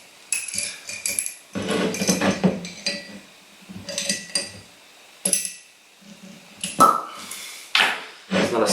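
A cork is worked free from a hand-bottled 2016 Mitchell Harris Curio Syrah wine bottle, with a series of close glassy clinks, scrapes and sharp little taps coming in short bursts.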